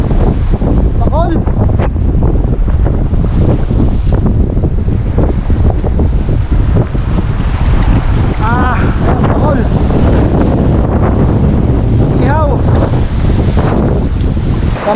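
Strong wind roars steadily across the microphone alongside crashing waves, a loud, unbroken rush of open-sea noise with faint voices in it, recorded while fishing on rough water.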